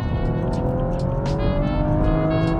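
A BMW M135i engine revs up hard and climbs steadily in pitch, a loud, sustained acceleration heard from close by.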